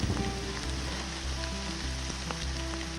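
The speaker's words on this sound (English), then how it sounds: "the rain's starting to really come down" Steady heavy rain from a thunderstorm pours down outdoors near Lake Michigan with a dense hiss and scattered drops striking nearby surfaces, while a low hum carries underneath throughout.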